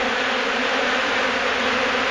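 Thousands of angry honey bees swarming at close range during a hive removal, their buzzing a constant, full, unbroken hum that fills the space evenly without voices.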